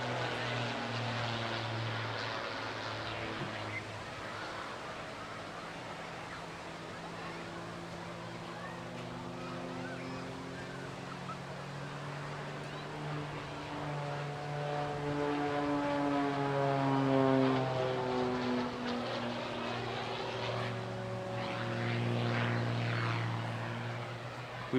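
Aerobatic propeller aircraft at the Bournemouth Air Festival flying past, its engine drone rising and falling with shifting Doppler pitch, moderately distant and swelling louder toward the end.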